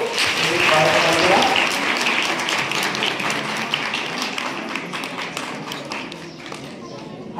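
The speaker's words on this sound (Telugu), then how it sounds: "మరి వారికి ఒకసారి గట్టిగా చప్పట్లతో" A gathered crowd at a village meditation event claps loudly and steadily at first, the applause slowly thinning toward the end.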